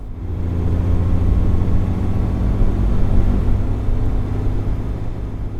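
An Austin Healey 3000 MK III drives along back roads, its engine a steady low rumble with road and wind noise holding fairly loud and even throughout, with no voices.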